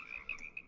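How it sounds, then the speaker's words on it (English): Several frogs croak in a short burst of bright, resonant ribbits, two or three calls in quick succession, close and clear with no other sound. "Just frogs then. Some of the ribbits are very loud,"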